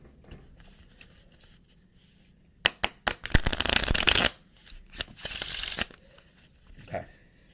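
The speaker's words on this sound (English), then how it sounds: "I'm going to start off by shuffling the deck." Cards being riffled and bridged twice in quick succession, close and crisp, with light handling rustles between and no talking.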